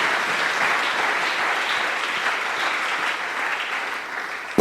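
A church congregation claps together in steady, dense applause that fills the room, holding at full strength for several seconds before a sharp louder burst at the end.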